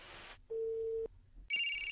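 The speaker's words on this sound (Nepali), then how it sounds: "फोन लाग्यो, घन्टी गइरहेछ।" Outgoing phone call ringback: a steady electronic ring tone sounds for about half a second, stops, then a brighter, louder electronic ringing starts and continues to the end, with no talk over it.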